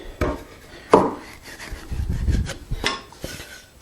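Hand-sawn wooden tenon pushed into its mortise for a test fit: a few sharp knocks and taps, then rubbing, scraping wood-on-wood friction, close and fairly quiet, with no talking.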